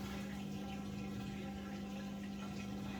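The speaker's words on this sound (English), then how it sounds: "the drum should start rotating, but that is not happening. So it's still draining." Samsung EcoBubble washing machine draining water with the drum not spinning, heard as a steady, continuous pump hum with a faint watery rush throughout, even and unbroken.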